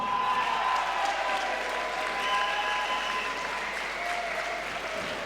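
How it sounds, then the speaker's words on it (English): Sustained, loud crowd applause fills an arena after a mixed martial arts cage bout, a dense steady wash of clapping with cheering that holds level throughout. "Ladies and gentlemen, round of applause for both our fighters."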